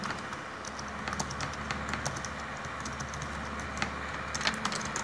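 Typing on a computer keyboard while entering bar lengths into an Excel spreadsheet for a steel calculation of an RCC slab, a continuous run of light, quick key clicks with a few louder taps, no talk.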